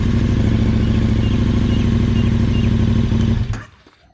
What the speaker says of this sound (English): instead of a quick flick on the starter, actually press it till it starts